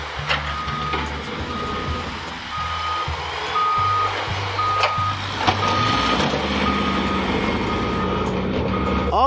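Repeated electronic reversing beeps from a toy dump truck sound steadily over a low motor drone, fairly close, with no talking.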